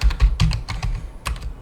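Someone types a command on a computer keyboard in a quick, uneven burst of close key clicks.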